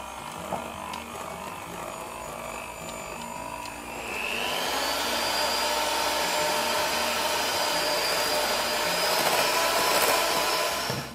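An electric mixer whirs through egg yolks, mascarpone and lemon juice, a quieter motor hum at first that jumps to a louder, steady buzzing whine after a few seconds and holds.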